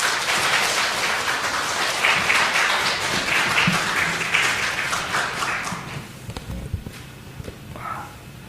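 A church congregation at an afternoon service applauds, with dense, loud clapping that swells, then thins out toward the end into scattered claps and light shuffling.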